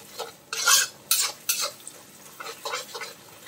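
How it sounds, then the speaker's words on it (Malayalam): A spoon scrapes and stirs through chicken stir fry with rock salt in a pan, producing several loud, irregular bursts of sizzling and clattering, up close and without any voices. "ഉപ്പ് ചേർത്തതിന് ശേഷം നമുക്ക് ഒന്ന് ഇളക്കി കൊടുക്കാം."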